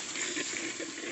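Water poured into a clay pot of desi chicken makes a brief, continuous liquid rush at close range, with no one speaking.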